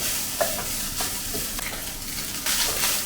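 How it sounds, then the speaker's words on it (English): Minced pork stir frying in oil in a wok for Sichuan glass noodles, a steady close sizzle with scattered spatula scrapes and stirring clacks throughout, no voices. "And now the pork is actually stir fried with the oil and starts to become aromatic."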